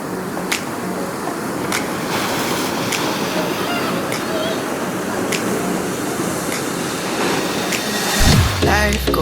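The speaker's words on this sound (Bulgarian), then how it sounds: "Чувате ли море?" Steady broadband wash of sea waves on a summer shore fills the whole stretch, even and fairly loud, with a few faint clicks and a brief low thump near the end.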